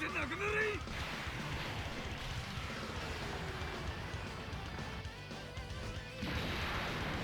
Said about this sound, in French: a fait exploser la terre